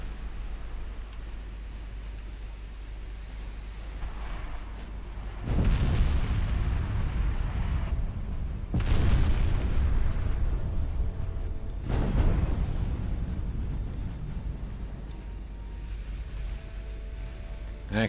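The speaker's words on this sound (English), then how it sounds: "I actually scored some torpedo hits." Torpedo explosions in the naval game Ultimate Admiral Dreadnoughts, with three heavy booms a few seconds apart over a constant low rumble, each decaying slowly.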